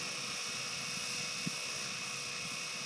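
A radio-controlled helicopter with a NazaH flight controller hovers in GPS mode, holding its position, producing a steady high-pitched rotor and motor whine with one brief click partway through.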